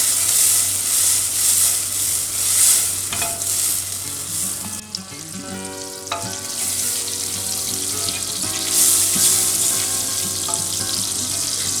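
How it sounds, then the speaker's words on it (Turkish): A spoon of butter and a couple of spoons of oil heating in a pan for Turkish sulu köfte, loud continuous sizzling and crackling close by, with a few clinks partway through and no voices. "Bir kaşık tereyağı ve bir iki kaşık sıvı yağ eğitiyoruz."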